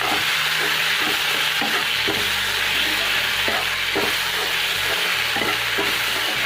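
Fiddlehead fern and tomato sizzle in hot oil with onion and cumin, a loud, steady fry with scraping stirs and clinks from a utensil against the pan.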